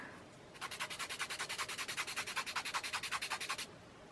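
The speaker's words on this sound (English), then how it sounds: "grab a piece of sandpaper. This is one of those like sanding blocks" A pencil point is sharpened on a sandpaper sanding block: about thirty quick, even rubbing strokes form a steady scratchy rhythm for roughly three seconds, close and clear with no talk.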